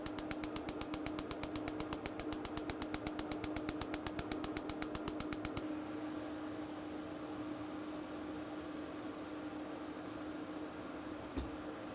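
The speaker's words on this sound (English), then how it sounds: "hit the ignite button, and you can see it sparking down in the bottom." A recreational vehicle's stove-top igniter clicks in a fast, steady train of sharp ticks for about five and a half seconds. The clicking then stops and leaves a faint background hum.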